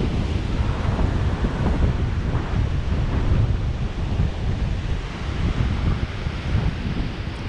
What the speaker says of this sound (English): So misty, so it's quite windy still, and it's a sort of a sou'easter still.